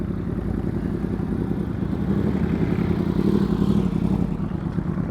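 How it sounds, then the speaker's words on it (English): A motorcycle engine running at low speed during riding skills practice, a steady low rumble with slight swells, close and continuous with no talk. "It still has a fairly low engine speed, but that is completely fine as long as you're in control and smooth"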